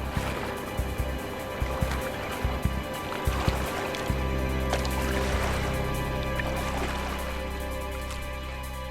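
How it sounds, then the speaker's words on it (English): A paddle strikes river water in a few sharp splashes, followed by a steady low hum that carries on beneath the gentle wash of water. "As we hit the water with the paddle,"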